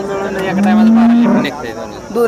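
At a cattle market a cow gives one long, loud, close moo that holds a steady low pitch for about a second, then trails off into market background noise.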